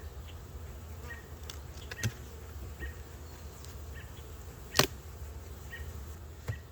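Honeybees bearding outside a hive make a soft, steady buzzing hum, with a few bees zipping close by in brief louder passes.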